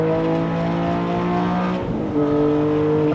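A loud Porsche 718 GT4 flat-six engine with aftermarket exhaust headers and a raspy, throaty exhaust drones steadily, briefly dipping in pitch before revving back up.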